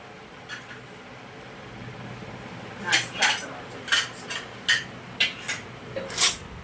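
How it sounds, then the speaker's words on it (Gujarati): A steel spoon clinks and scrapes against a dish of sabudana khichdi, with a few faint taps at first, then a quick run of sharp, close clinks spaced irregularly over several seconds. "ચમચી"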